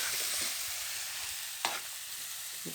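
Chilli powder and meat masala stirred as they fry in a pan: a steady close sizzle runs throughout, with soft scraping strokes of the spoon and one brighter scrape partway through.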